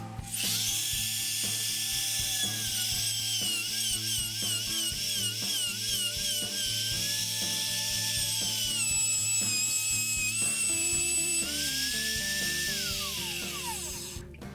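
Router cutting a hole for a router plate in a wooden table, a continuous loud high-pitched whine with a steady grinding undertone that shifts in pitch near the end as the motor winds down.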